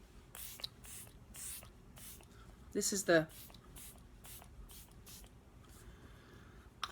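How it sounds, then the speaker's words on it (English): Tarte Stay Spray setting spray misted onto a face in a short burst of fine hissing spritzes, close and brief, amid soft handling rustles and someone speaking quietly. "a little bit of setting spray"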